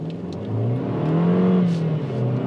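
SsangYong Tivoli SUV in Sport drive mode, launched hard from a brake-held start: a loud engine revs up and climbs steadily in pitch as the car accelerates, heard close up from inside with no talk.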